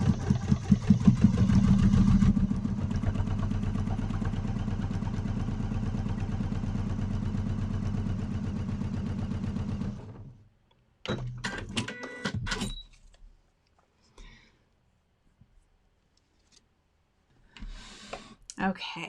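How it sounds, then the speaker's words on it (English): A sewing machine stitches quilt layers right next to the fold, a fast, steady mechanical whir close by for about ten seconds, then stops and is followed by scattered clicks and handling noises. "sewing right next to the fold."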